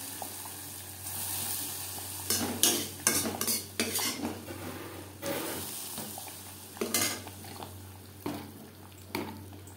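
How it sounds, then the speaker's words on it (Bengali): Moong dal khichuri being stirred after coconut-fried tempering and tomatoes are added: a spoon scrapes and clinks against the pot in irregular bursts, with a faint steady background hum and no talk. "খিচুড়ির সাথে ফোড়ন বেশ ভালো করে মিক্সড করে দেব"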